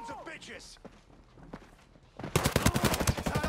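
Submachine gun firing in Ghost Recon Breakpoint: a loud, rapid burst of automatic gunfire begins partway through and runs to the end, following quieter game sounds and footsteps.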